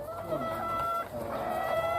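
Laying hens in a coop of about five hundred birds cluck and murmur steadily up close, with brief higher calls rising over a dense, continuous flock chatter.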